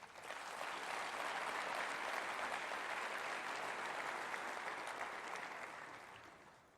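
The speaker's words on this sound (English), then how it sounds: "please give a round of applause to those on our committee" Sustained audience applause fills an awards hall at a baking hall of fame induction ceremony, a dense steady wash of clapping that swells in quickly, holds evenly and tapers off at the end, with no talk over it.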